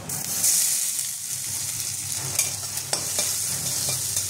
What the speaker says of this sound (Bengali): আদাটা একটু ভাজা হয়ে যাবে।